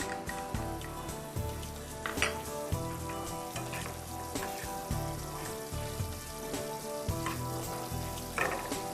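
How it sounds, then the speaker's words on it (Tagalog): Onions sautéing in vegetable oil in a pan, a steady close sizzle and crackle with soft stirring and occasional clinks throughout, no talking. "Sautein natin ang ating onions."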